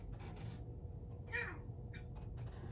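A person mimics a cat with one short, rising-and-falling meow partway through, set against a steady low background rumble during an Aliens vs. Predator gaming session.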